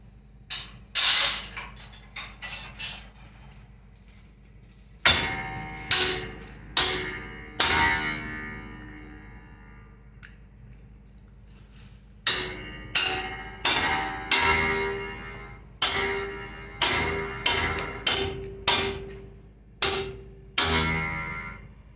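A hammer strikes a knife blade at a forge, ringing metallic clangs landing in quick bursts of several blows separated by brief pauses, close and loud with no talking.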